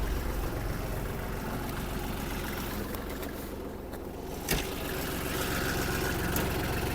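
A Kubota GL-320 mini tractor engine, already warmed up, idles with a steady low diesel rumble, close and continuous, with one brief knock partway through.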